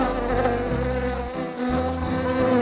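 Bee buzzing: a loud, close, continuous insect drone with rich harmonics, wavering slightly in pitch and dipping briefly midway, with no talking.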